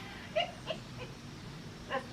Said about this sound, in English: Is that what Buddy's barking at?